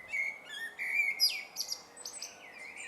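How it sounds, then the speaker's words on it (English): Bird song at show gardens in January, with clear, bright whistled phrases and quick chirps repeating one after another, loud and close with no talk over them. "it is one of my favourite bird songs"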